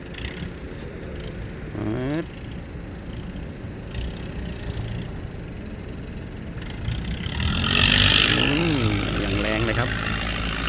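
A small boat's engine revs up on the Chao Phraya River, its mid-pitched drone rising and growing louder toward the end, heard close with someone talking over it.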